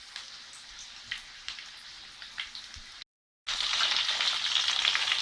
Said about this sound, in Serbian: Evo, lepo se to sad krčka, odnosno prži